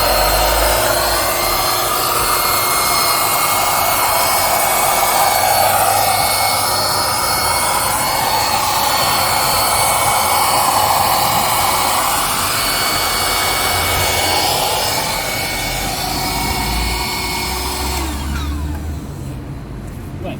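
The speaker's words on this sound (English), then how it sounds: "put the largest nozzle and inflate that" An air pump inflates an inflatable car mattress through its largest nozzle, giving a loud, steady whirring drone that runs unbroken for about eighteen seconds before cutting off.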